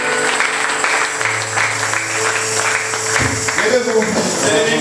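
A church congregation claps for the Lord, a steady wash of applause running under a speaking voice and held tones for the whole stretch.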